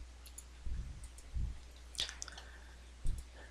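Computer mouse clicks while standing-order entries are highlighted and deleted: about four soft, separate clicks spaced irregularly over a few seconds, faint and close against quiet room noise.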